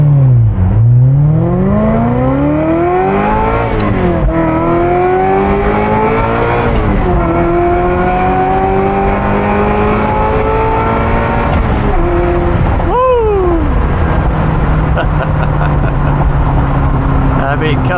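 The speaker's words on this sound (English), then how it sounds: "Is that not the best sounding car you've ever heard in your life?" A Ferrari 348 engine is driven at full throttle across a bridge, roaring close and loud as it climbs through the revs, drops pitch at each gear change, then pulls hard again through repeated shifts.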